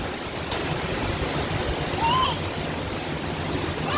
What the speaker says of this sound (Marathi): दगड फेकल्यासारखा आवाज येतोय